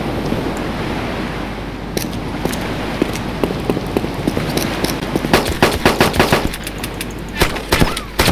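Rapid bursts of gunfire in the video game DayZ, loud and close, crackling in quick clusters over a steady roar of wind or surf, with brief shouting at times.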